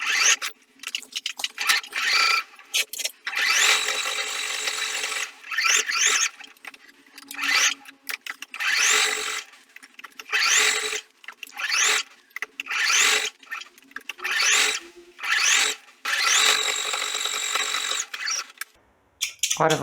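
A sewing machine stitches fabric along a traced line for a lion-hood towel, running in repeated close bursts of rapid whirring broken by short pauses.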